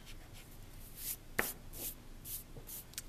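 An eraser rubbing out pencil lines of a perspective drawing of front steps on paper: several short, quiet scrubbing strokes in irregular bursts, close up, with one sharper tap midway and no talking.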